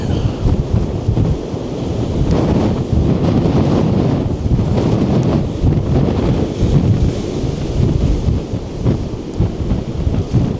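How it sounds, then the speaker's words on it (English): White-capped Lake Erie storm waves surge toward shore in a December gale, with a dense, continuous roar of water and gusting wind buffeting the microphone throughout. "Like just over here, it's like endless waves now, just white caps just coming, just surging towards us."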